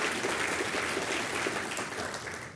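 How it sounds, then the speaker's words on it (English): Steady applause from an audience at a book signing with former Senator LeMieux, continuous and moderately loud throughout, easing slightly at the end. "Please join me and give Laura a round of applause."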